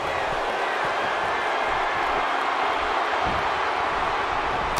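A loud, deafening Birmingham arena crowd cheers and roars steadily throughout a WWE 2K18 wrestling match, as Kevin Nash locks up, a dense continuous wash of crowd noise with no pauses.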